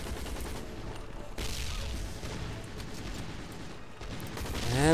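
Rapid, continuous gunfire from the video game Hazrd Ops rattles steadily throughout, dense and sustained, with a brief gap before it resumes and builds louder at the end.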